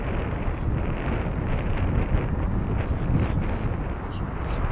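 Steady, loud rumbling wind buffeting the microphone outdoors in 17 mph winds while a Mavic Mini drone flies, a continuous low roar with no pauses throughout.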